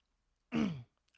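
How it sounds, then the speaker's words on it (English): One brief, close throat clearing from a person, a short rough rasp standing alone in near silence. "Or you might clear your throat."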